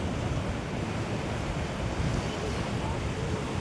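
A strong water current rushes outdoors as a loud, continuous roar, heavy with wind buffeting the microphone, steady from start to end.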